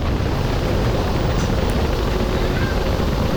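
A Royal Enfield Hunter 350 motorcycle rides at about 110 km/h in fourth or fifth gear on a bridge, a loud, continuous roar of engine mixed with heavy wind rush over the microphone.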